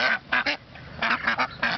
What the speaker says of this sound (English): The ducks. Quack, quack, quack.